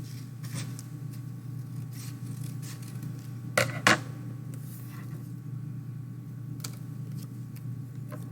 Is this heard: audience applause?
no